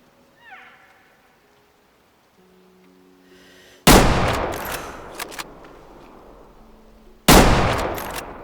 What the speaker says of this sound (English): I had to shoot him twice